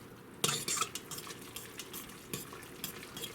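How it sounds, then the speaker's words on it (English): Carbonara noodles being stirred in an Instant Pot, with irregular clinks and scrapes of a utensil against the metal pot and a wet, sticky stirring texture, close and without speech. "First, I'm going to just come in here and mix up our noodles."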